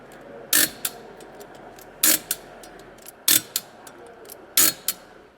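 An apparatus on a wheel-balancing machine is tightened in four sharp ratcheting bursts spaced about a second apart, each a quick gear-and-pawl clatter with small clicks between, near and fairly quiet, with no voices.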